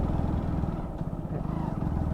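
A motorcycle ridden along a road toward a waterfall, its engine a steady, close low rumble with wind noise throughout, no talking.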